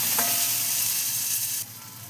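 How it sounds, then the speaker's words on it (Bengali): Chopped tomatoes with a little salt frying in a pan, a loud, close, continuous sizzle that drops to a quieter hiss near the end. "দিয়ে এবার একটু ভেজে রাখবো।"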